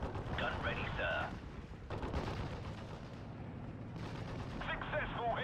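A tank gun fires in the WWII strategy game Steel Division: Normandy 44, heavy booming gunfire and rumbling battle noise throughout, with brief radio-style voice chatter at the start and end.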